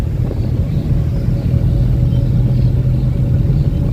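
A car driving during a driving lesson gives a steady low engine rumble with road and wind noise, close and continuous throughout with no talking.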